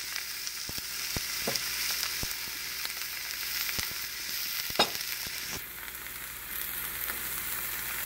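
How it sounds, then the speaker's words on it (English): Chuck eye steak sears in a hot, smoking pan, giving a steady close sizzle with scattered pops and sharp crackles and no voices over it. "this pan is hot. It's starting to smoke. Steak's down."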